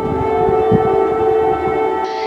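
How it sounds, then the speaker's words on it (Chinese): Air raid siren sounding in Ukraine during wartime: a loud, sustained wailing tone that holds steady, with a low rumbling underneath, then drops away abruptly near the end. "暗夜中刺耳的空袭警报，乌克兰人整整听了两年"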